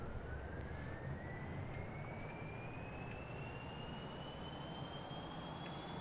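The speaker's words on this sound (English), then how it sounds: "the one jet engine should be enough to make this thing fly" A single jet engine on a plane taking off in Kerbal Space Program, a steady, even roar with a whine climbing slowly in pitch, throughout the clip.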